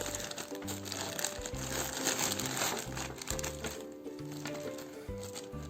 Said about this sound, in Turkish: İkinci bir poşetimiz çıktı. Bunun da içini açıp neler olduğunu görelim.